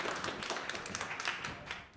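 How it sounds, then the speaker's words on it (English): Applause for a panel at the close of a summit session, a short spell of moderate, fairly faint clapping with scattered individual claps from a smallish audience. "Round of applause for this panel."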